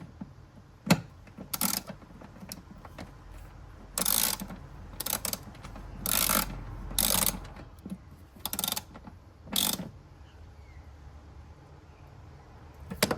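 Ratchet tightening a bracket on a Subaru WRX front brace bar, bursts of rapid close clicking repeated in short strokes with pauses between, no talk.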